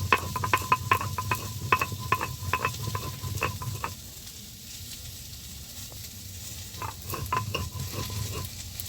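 Potatoes sautéing in a pan for a mixed vegetable pumpkin dish, with a soft sizzle and a run of rapid rhythmic metal stirring clinks that pause and then resume.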